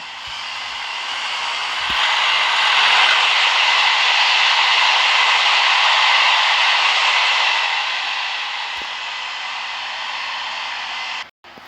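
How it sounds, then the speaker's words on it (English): Freight train in a train video game rushing past at around 100 mph, a broad, steady roaring hiss that swells and fades over several seconds before cutting off abruptly. "We have a freight train."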